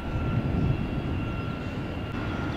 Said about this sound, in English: There's a United over at the Hush House. They're revving up the engines.